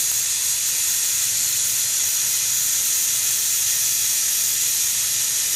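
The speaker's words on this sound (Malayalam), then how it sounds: "ഇതിൻ്റെ ഉള്ളിൽ നിന്ന് സ്റ്റീം നന്നായിട്ട് പോയി കഴിയുമ്പോൾ നമുക്കിത് തുറക്കാം." Steam hisses out of a pressure cooker holding chicken biryani after the heat is turned off, a loud, constant high hiss close by with no pauses.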